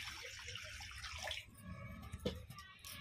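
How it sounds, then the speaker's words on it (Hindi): Water splashes and pours into a kadhai while making palak paneer, a brief rushing wash with a small clink near the end. "पानी डाला थोड़ा सा।"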